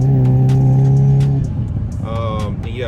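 Hyundai Kona N with a JB4 tune pulling hard on the highway, a loud steady engine drone climbing in pitch, then a shift and renewed surge with someone talking over it.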